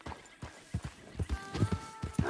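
A horse's hooves clip-clopping in a steady walking rhythm in the video game Red Dead Redemption 2, a string of distinct hoofbeats with a faint tonal game sound underneath.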